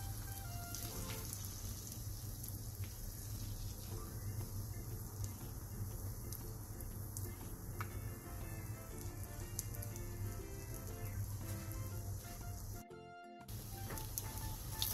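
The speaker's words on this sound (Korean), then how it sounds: "팬에 기름을 두른 뒤 애호박을 올리고 중약불에서 노릇노릇하게" Egg-coated zucchini slices fry in an oiled pan over medium-low heat, giving a steady, close hiss and crackle that runs almost unbroken, with a brief dip near the end.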